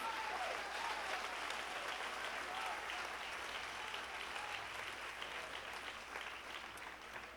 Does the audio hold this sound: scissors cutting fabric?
no